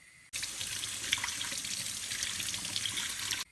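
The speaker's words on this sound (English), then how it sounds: "I'm going to go ahead and rinse off my potato just to get any dirt off" Tap water runs steadily into a sink while a potato is rinsed of dirt, a close, even gush that starts suddenly, holds for about three seconds and then stops.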